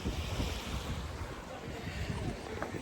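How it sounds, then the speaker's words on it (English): Sea waves wash steadily into a small beach cove at Santa Ponsa, Mallorca, a continuous broadband surf roar mixed with gusty wind buffeting the microphone, with no clear breaks. "Got a nice little beach with a cove,"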